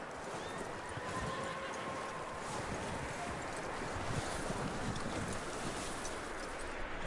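Horse sounds in the video game Red Dead Redemption 2 in a snowy setting: steady hooves and a whinny over a continuous wind-like rush, fairly close.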